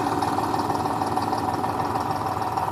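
A John Deere 5050D or Eicher 548 tractor engine idles steadily up close, a continuous loud drone with a rough, even low-end pulse and no break throughout.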